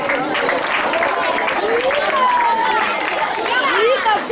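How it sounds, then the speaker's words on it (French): Audience applause at a school prize-giving ceremony, sustained clapping with crowd chatter and voices throughout, including some whistle-like cheering. "Applaudissez pour elle."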